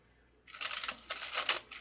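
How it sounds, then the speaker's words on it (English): Tarot cards are riffle-shuffled close up after a short quiet pause. Quick crisp fluttering bursts of card edges snapping together run on for over a second, with no talking. "So let's do one more shuffle here."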